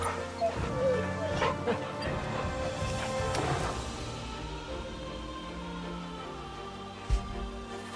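Dog in Final Fantasy XVI giving short barks and soft whimpers over a layered game soundtrack, with a sharp thump near the end.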